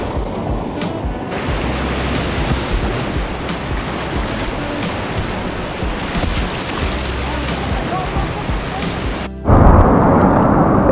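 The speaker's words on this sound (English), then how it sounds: "I'm gonna paddle toward the boily, squirrelly looking water with some speed." Kayak paddling into boily, squirrelly whitewater rapids: a constant loud rushing roar of churning water with wind buffeting the microphone, ending in a sudden louder surge.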